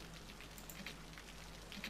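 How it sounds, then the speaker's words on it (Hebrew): Rain in a city-building video game, a faint, steady patter of drops forming a continuous hiss with no other sounds. "יש גם גשם בזה"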